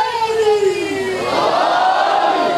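A large crowd at a religious majlis gathering chants loudly in unison, voices sustained and swelling together, filling the space without a break.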